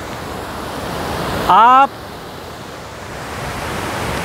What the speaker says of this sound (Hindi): ये देखिए पानी के जो तेज़ बहाव जो आप देख पा रहे होंगे